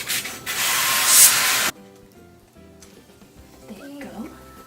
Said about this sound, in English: If you're using a pancake ring, make sure you spray it with oil before you put the mix in.